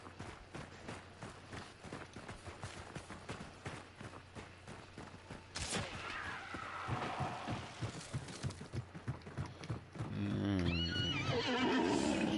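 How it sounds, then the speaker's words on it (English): A horse in the video game Hunt: Showdown gives a loud whinny near the end, preceded by rhythmic thudding hoof-like beats and low rumbling game ambience. "Winfield Centennial on the back of this horse"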